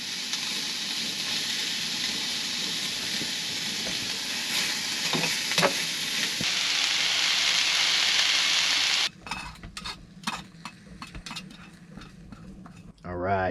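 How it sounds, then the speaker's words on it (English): Kimchi and onions fry in a pan at a winter campsite, a steady broadband sizzle running for about nine seconds with a few faint knocks, then breaking off into scattered clatter and handling noises. "Maybe throw some kimchi in there. I'm also going to throw some onions in here as well."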